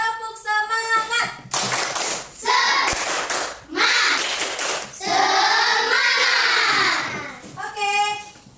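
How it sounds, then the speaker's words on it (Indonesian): A school class performs a rhythmic spirit clap, bursts of hand claps alternating with children's chanted, sung voices in a quick call-and-response pattern, fairly close and lively. "coba kita buat dulu tepuk semangat"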